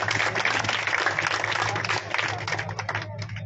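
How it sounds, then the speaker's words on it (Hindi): A crowd at a government postgraduate college event in Gangapur City applauds the arriving MP, dense continuous clapping over a steady low electrical hum from the sound system. "सभी जोरदार तालियां बजाकर उनका स्वागत अभिनंदन करें"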